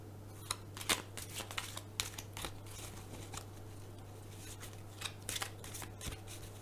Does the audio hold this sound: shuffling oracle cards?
yes